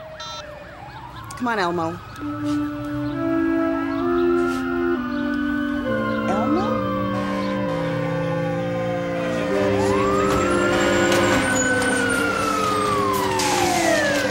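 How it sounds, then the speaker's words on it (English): Fire engine sirens wail and sweep in rising and falling tones as they approach, growing louder over time, with a deep horn blast and a brief spoken line near the start. "I hear the sirens."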